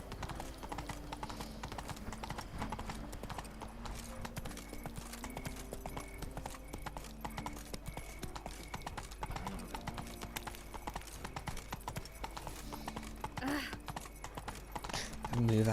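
Roach the horse gallops in The Witcher 3, a steady rapid clip-clop of hooves running continuously over game music and ambience.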